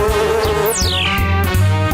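A swarm of cartoon bees buzzes close and loud over a brief, busy stretch of animated soundtrack, with a sweeping whistle-like tone passing through.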